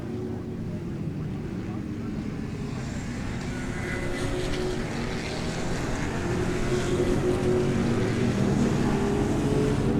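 Race cars, a Spec Corvette in the lead, roar past on the Daytona track during a SARRC GT and SC race: a steady, loud engine drone that swells slightly toward the end, with no clear talk.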